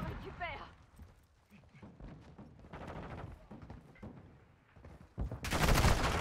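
Video game gunfire comes in scattered bursts among shouted voices, ending in a loud, dense volley of shots near the close.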